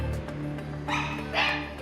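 Dogs at a breeding farm give two short yipping barks about half a second apart over a constant low mechanical hum.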